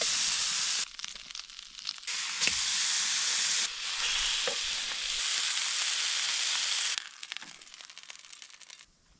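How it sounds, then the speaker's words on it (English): Burgers sizzle in a pan at a campsite, a loud, steady hiss that runs close and unbroken for most of the time before thinning into crackles near the end. "it's time to cook some burgers"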